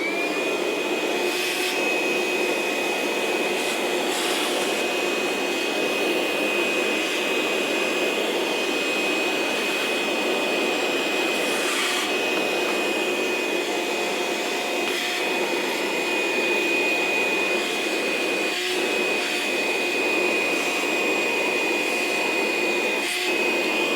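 A DeWalt DCV581H cordless wet/dry vac runs continuously, a loud steady whine with a high pitched tone, with faint rattles and clicks as bugs and metal chips are sucked up, no talking.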